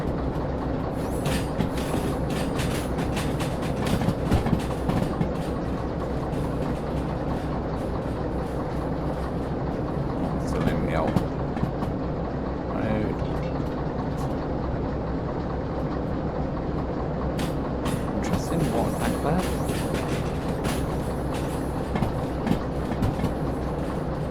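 Train rolling on rails in the railway simulation game Derail Valley, realistic mode, passing through a station yard with diesel locomotives: a steady, loud rumbling roll with faint repeated clickety-clack of wheels over rail joints, no talk.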